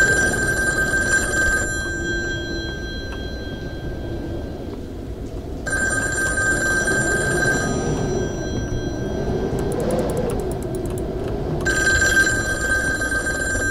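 Telephone ringing in a Taiwanese horror video game, a loud electronic ring in three long bursts separated by pauses, over a low ambient drone.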